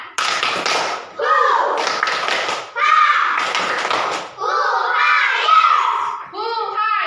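Children in a classroom perform the 'tepuk semangat' rhythmic clap once more, brisk sequences of crisp claps overlapping their energetic chanted voices, loud and close throughout.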